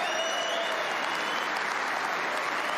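A snooker crowd at Belfast's Waterfront Hall applauds a century break, steady dense clapping filling the hall at an even, sustained level from start to finish.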